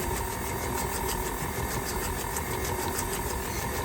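A KitchenAid stand mixer runs on low speed while mixing Coke cake batter, giving a steady, close motor whir with a faint rhythmic pulsing that holds at a constant level throughout, with no talking.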